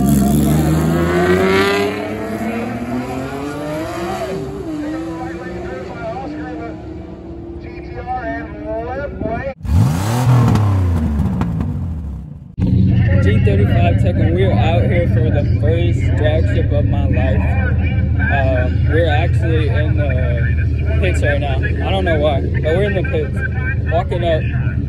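A BMW and a Nissan GTR at a Bradenton drag strip roll-racing event, engines roaring and revving loudly, rising in pitch, with a brief break before a sustained close roar; talk is heard too.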